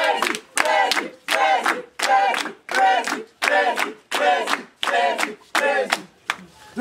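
A crowd chants in a loud, regular rhythm, about nine bursts of voices and claps evenly spaced with brief gaps between each.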